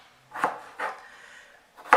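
Three dull knife chops land on a cutting board as potatoes are chopped, spaced unevenly, close and fairly quiet.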